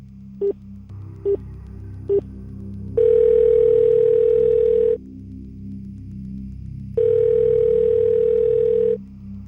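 An unanswered outgoing phone call: three short beeps, then two long, steady ringback tones separated by a silent pause, each lasting about two seconds, loud and clear with no voices.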